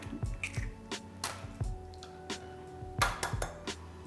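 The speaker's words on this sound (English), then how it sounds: "I'm gonna go ahead and crack 4 eggs into here" Four eggs cracked one after another into a bowl while making a doctored lemon cake mix, giving a series of close, sharp taps and clinks on the bowl rim with soft wet drops between.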